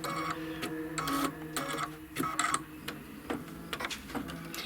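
An embroidery machine stitches quilt stems in light green thread, giving a quick, rhythmic mechanical chatter in repeated bursts with brief pauses, close and fairly quiet, with no voices.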